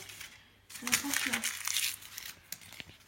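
A small child crumples and crinkles a paper till receipt in short bursts of close rustling, with a voice speaking softly around it.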